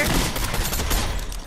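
Rapid Fortnite gunfire rattles in a dense, continuous burst of loud shots at close range, filling the short moment without any speech.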